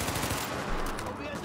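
A burst of rapid gunfire rattles in a noisy mix from the video game The Division, dense and continuous for a moment before thinning out.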